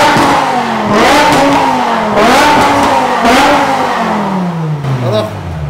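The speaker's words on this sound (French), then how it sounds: "on va faire écouter le bruit de la M5" BMW M5 with its V10 engine revving hard up and down in repeated sweeping surges, loud and close, settling into a falling note at the end, with people talking faintly underneath.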